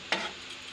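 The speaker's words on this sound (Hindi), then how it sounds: "अब इसको भी इसी में मिला देंगे।" A spoon stirs turmeric powder and spices in a frying pan for paneer masala, giving one short scraping stir that fades into a soft, steady sizzle.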